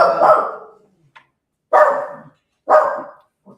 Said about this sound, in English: That's the little dog.